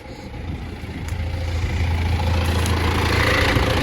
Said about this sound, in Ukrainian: Трактор їздить.